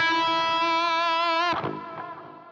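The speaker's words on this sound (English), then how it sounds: "For the reverb itself on this one, I'm using the Glitz, which is pretty cool." Electric guitar through a Glitz reverb pedal rings out a sustained, wavering chord that then cuts off, leaving a shimmering, ethereal reverb tail decaying alone.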